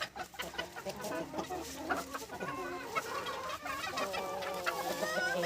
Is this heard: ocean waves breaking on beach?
no